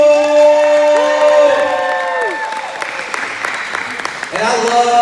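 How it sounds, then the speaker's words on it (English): A youth basketball awards crowd applauding for a player, a wash of clapping beneath high, sustained whoops and excited voices, with a fresh swell of cheering near the end. "Let's clap it up for Nate People!"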